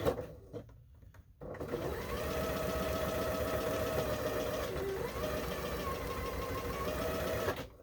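A sewing machine stitches placemat seams in a continuous close whirring run lasting several seconds, starting after a short quiet pause and stopping abruptly at the end.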